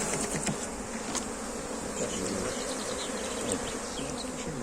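A dense, steady swarm of Anatolian honeybees buzzing close by at a full hive, a continuous droning hum with no voices.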